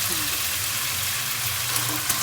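Beef hits a hot pan of lightly browned ingredients for a lemon beef dish, giving a continuous broad sizzle that stays even and close throughout.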